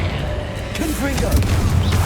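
Confringo fire-blast spell cast during combat in the video game Hogwarts Legacy: loud booming explosions and clattering effects under a dense wash of game noise, with a voice speaking over them.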